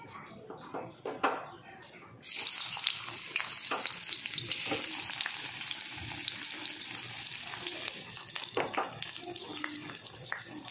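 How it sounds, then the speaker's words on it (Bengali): Chopped onion tipped into hot refined white oil in a wok sets off a loud, crackling sizzle after a couple of seconds of quieter clatter, with stirring scrapes and a voice speaking over it. "তেল গরম হয়ে গেছে, এবার আমি প্রথমে দেবো পেঁয়াজ কুচি।"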